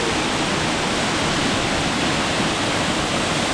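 A jungle waterfall in Lombok roars in a dense, steady wash of falling water, close and loud with no break.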